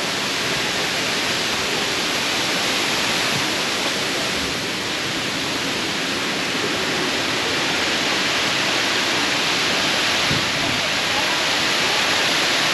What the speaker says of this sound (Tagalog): Tak-Tak waterfall.